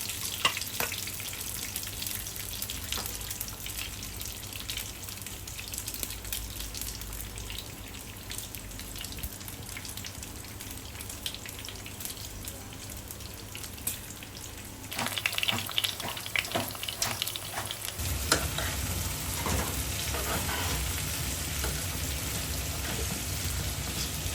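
Pointed gourd frying in oil, a continuous crackling sizzle close by that grows louder and denser partway through, with occasional stirring scrapes and no voices.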